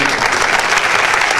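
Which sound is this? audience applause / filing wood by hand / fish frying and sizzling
audience applause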